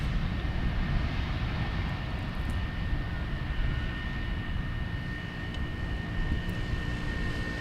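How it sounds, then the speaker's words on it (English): A Turkish Airlines Airbus A321 on approach to land at Amsterdam Schiphol on runway 18R, giving a steady, continuous jet engine roar with heavy low rumble that stays loud and unbroken throughout. "while we are watching another airplane coming in"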